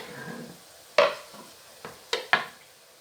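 A small onion cooking in a pan, with a soft sizzle and a few clanks of a utensil stirring against the pan, close and clear without talk.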